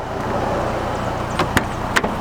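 Heavy glass-framed door of a rare Japan-only Toyota swinging shut, a couple of sharp close thumps and clicks near the end over a quiet outdoor background.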